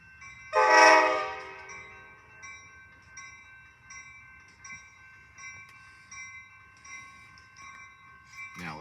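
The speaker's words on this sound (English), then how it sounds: "When is he gonna do the horn?" An Amtrak passenger train led by a Charger locomotive sounds its horn at Stanwood, Washington, one loud sustained chord near the start that fades into a long lingering ringing tone, heard from close by at a station.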